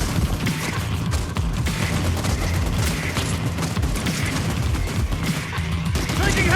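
Rapid bursts of gunfire in the first-person shooter Fortnite, dense automatic shots and sharp cracks crowding together, loud and close, with booming impacts mixed in.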